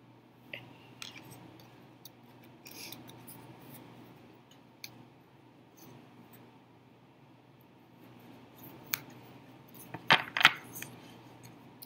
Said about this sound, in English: Drops cards.